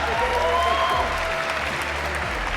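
An esports arena crowd at an ESL main stage applauds, a dense, continuous wash of clapping filling the whole moment, with faint cheering mixed into the steady roar.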